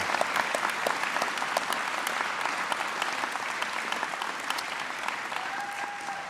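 A graduation audience applauds the new graduates in a steady, dense wash of clapping that holds at full strength from start to finish, with no talk over it.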